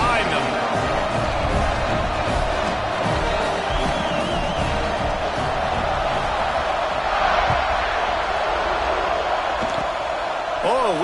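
Steady stadium crowd roar in College Football 26 as fans build up before a kickoff, a dense continuous wall of cheering and hubbub that stays loud throughout.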